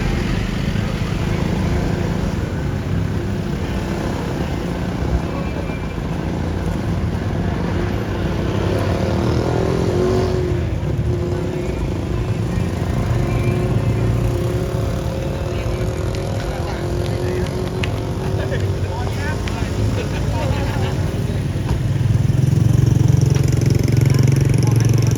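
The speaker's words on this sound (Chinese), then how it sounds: "突突车双条车陆续搭载着游客离开，突突突的发动机轰鸣连绵不断" Tuk-tuk and songthaew engines rumble steadily along a busy Chiang Mai street near Tha Phae Gate at night, a continuous low drone of traffic with a louder engine swelling near the end and faint voices in the background.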